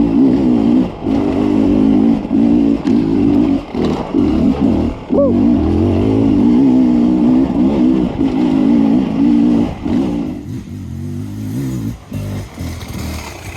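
An enduro motorcycle runs fast off-road with its tire at low air pressure, the engine droning loud and close with rising and falling revs, brief throttle dips and wind rush throughout.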